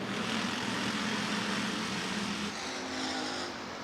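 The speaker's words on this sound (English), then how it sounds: "The 23 as they hustle the back straightaway behind your race leader, Corey Probst." Hobby stock race cars on a clay dirt speedway at a county fair, a dense, loud engine roar from a pack of cars hustling down the back straightaway, continuous and slightly fading toward the end.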